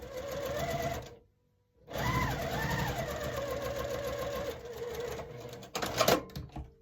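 A sewing machine stitches a quilt square diagonally, top right to bottom left, for a pressed-flowers quilt block; a loud, close run of rapid stitching stops briefly, then resumes in a long steady burst ending with quick clicks.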